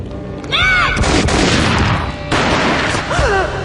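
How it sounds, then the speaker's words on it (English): Gunfire from the Max Payne mobile game, a loud booming burst with a second blast partway through, set against dramatic whooshing game audio. "A gunshot boomed and she fell down in slow motion."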